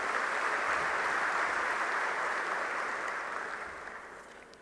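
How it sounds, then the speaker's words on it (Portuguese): A large audience at an industry conference applauds: a dense, steady wash of clapping from many hands, held at an even level and then slowly fading toward the end, with no talk over it. "A todos os presidentes de federação, uma salva de palmas e muito obrigado pela presença"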